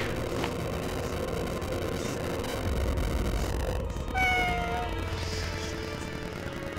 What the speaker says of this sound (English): What the? That was a cat.